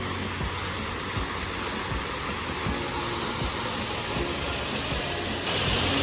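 A water fountain sprays in Eco Park, New Town, a constant close rushing splash of falling water that swells slightly louder toward the end, with no voices.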